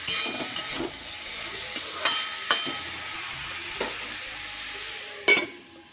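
Cauliflower stalks and tomatoes fry in a pan under a constant soft sizzle, with sharp scraping clicks from stirring at irregular intervals and a louder scrape near the end.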